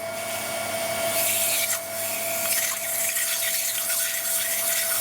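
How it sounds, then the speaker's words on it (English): Laser cutter air assist blowing at 30 psi gives a loud, steady rushing hiss of compressed air with a constant tonal whine, continuous throughout with small fluctuations. "Let's do the water slit test again with my 30 psi air"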